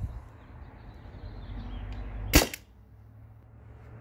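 A modded Byrna TCR launcher running on an HPA tank fires a single sharp, loud pneumatic crack, near and isolated against quiet outdoor background hum.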